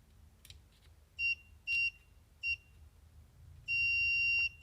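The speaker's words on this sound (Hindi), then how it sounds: "इसमें बीप आ रही है।" Digital multimeter set to the 200 V range gives continuity-test beeps during diode and MOSFET checks: three short tones in quick succession, then one longer sustained beep, clear and close over a quiet background.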